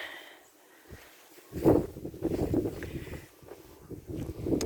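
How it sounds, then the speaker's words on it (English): Gusty outdoor wind on a high spot, rumbling and buffeting against the microphone in uneven surges that build and fade, fairly close, with no talking. "Now the wind is kicking up again"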